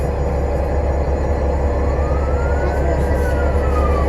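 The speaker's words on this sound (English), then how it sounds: "is that a police car or a fire? The fire truck." A fire truck siren wails loud and steady for the whole stretch, its rising and falling tone riding over heavy traffic rumble, with no talk.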